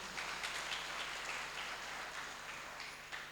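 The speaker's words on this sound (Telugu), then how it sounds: "గట్టిగా చప్పట్లు కొడదామా?" Applause from a church congregation during a sermon, a faint, distant, diffuse patter of many hands sustained for a few seconds with no talk over it.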